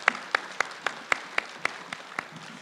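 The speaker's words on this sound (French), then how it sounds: "Vous pouvez les applaudir" Sparse, isolated handclaps from a small audience on a French television programme, about ten sharp claps spread evenly over a few seconds, fairly close and without talk.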